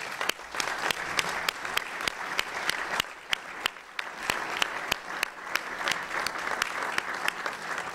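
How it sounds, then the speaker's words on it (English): A press club luncheon audience gives a steady round of applause, dense clapping with sharp individual claps standing out, continuous throughout. "I just wanted to have a full round of applause for John Bloom."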